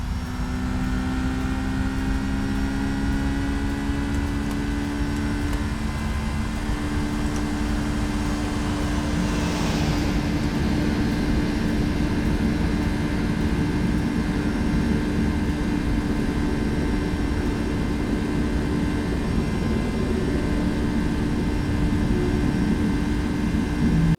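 Airbus A350-900 jet engines spool up for a go-around in the X-Plane flight simulator, a steady, loud turbine roar with a rising whine midway, continuous throughout with no talk.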